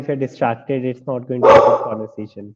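Dogs bark in a short burst of yips during an indoor live discussion, several sharp barks mixed in with someone talking over them.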